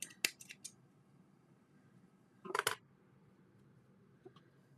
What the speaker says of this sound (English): Just snip it.